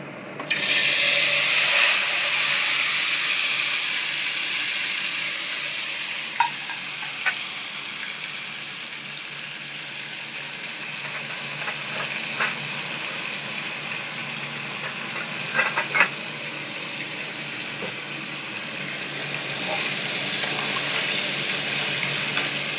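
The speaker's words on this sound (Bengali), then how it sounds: "তেলটা গরম হয়ে গেছে, এবারে আমি এই ম্যারিনেট করা চিকেনটাকে" Marinated chicken, flavoured with gondhoraj lemon, frying in hot oil: a steady, even sizzle and hiss that runs the whole time, with a few faint pops and crackles scattered through it.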